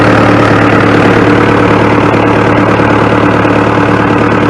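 A Super W6PA diesel tractor, started after sitting seven years, idles loudly and close by with a steady, rough, low rumble and continuous mechanical clatter.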